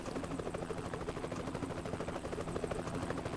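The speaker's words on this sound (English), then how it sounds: "there's a helicopter in the middle of the highway" A helicopter hovers nearby over a highway in Euro Truck Simulator 2, its rotor chopping in a fast steady rhythm over a low engine drone, loud and constant throughout.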